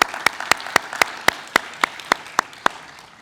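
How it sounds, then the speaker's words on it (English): Sparse, evenly spaced individual handclaps, about a dozen crisp claps from a small audience at a staff recognition reception, close and distinct, fading slightly toward the end. "If we can give them a round of applause too,"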